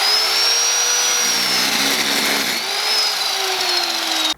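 A Trajan Q700 7-inch chop saw slices through a 3/4-inch aluminum round bar, giving a loud, steady high-pitched whine that holds for about four seconds before cutting off abruptly.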